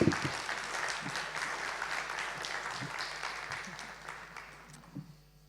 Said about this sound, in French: je vous laisse l'accueillir par des applaudissements